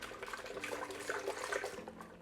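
Salsa thinned with chicken broth pours from a blender into a pot for carne en su jugo, a continuous liquid splashing and gurgling pour heard up close for a couple of seconds.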